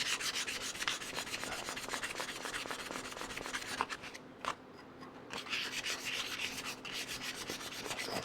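Wood is sanded by hand with 600-grit paper in quick back-and-forth strokes, close and fairly quiet, with a brief pause midway before the rubbing resumes.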